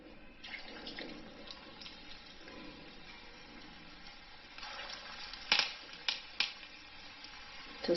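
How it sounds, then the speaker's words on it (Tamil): Fish bondas dropped one by one into hot oil over a medium flame, frying with a steady bubbling sizzle and a few sharper pops and crackles toward the end. "இப்போ வந்து நான் இதை ஒவ்வொன்றா போட்டு பொரிச்சு எடுத்துடலாம்."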